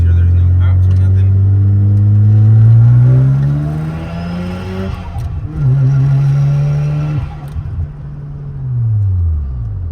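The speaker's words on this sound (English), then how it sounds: "now we're gonna do a quick pull, second gear, right quick" A big single-turbo Mazda RX-7 pulls hard in second gear, its rotary engine roaring loudly and climbing steeply in pitch from inside the cabin. It briefly drops off, then rises again before winding down at the end.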